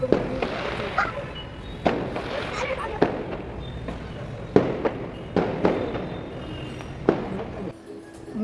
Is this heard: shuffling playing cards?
no